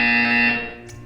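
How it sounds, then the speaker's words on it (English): A loud, sustained electronic buzzer tone sounds for about half a second, then fades and tails off alone without any talk. "You will hear a buzzer."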